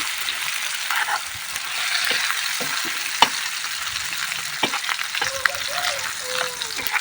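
Ingredients for a dhaba-style paneer curry fry in a pan, a steady close sizzle with scattered stirring clinks and scrapes throughout, no one speaking.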